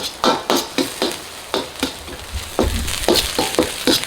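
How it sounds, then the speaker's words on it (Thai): Chili and aromatics, pounded coarse, stir-fried in a pan for Thai fried rice, cooked only until fragrant: close, crisp sizzle bursts broken by rhythmic scraping strokes of a spatula, with a louder, steadier frying hiss near the end. "เครื่องก็ผัดแค่พอหอมนะครับไม่ต้องเหลืองมาก"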